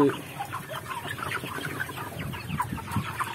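Chickens cluck and murmur close by in a busy chorus, overlapping soft calls and squawks from a crowded coop with a cooling pad system.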